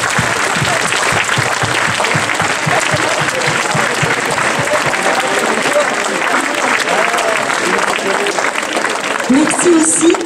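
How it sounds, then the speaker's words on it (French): Loud, sustained crowd applause at a graduating students' proclamation ceremony, dense clapping rolling on evenly throughout with faint voices underneath. "je vous demande de les applaudir tous."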